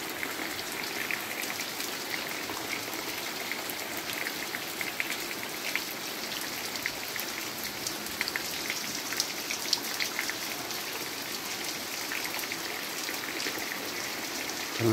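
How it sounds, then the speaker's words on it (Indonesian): Afternoon rain falls steadily, a dense, even hiss of drops hitting surfaces with scattered closer patters, continuous and moderately soft with no voices. "Hujan di sore hari."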